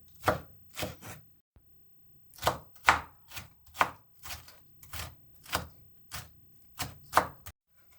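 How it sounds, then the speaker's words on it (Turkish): Sharp knife strikes chopping peppers on a cutting board, about a dozen crisp, close chops in an irregular rhythm with short pauses between them. "İlk önce biberlerimizi doğruyoruz."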